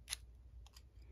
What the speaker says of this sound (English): get my scissors, and I'm just going to